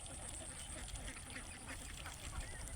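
A large flock of female ducks on a village duck farm quacks continuously, a faint but dense, overlapping chorus with a voice faintly mixed in.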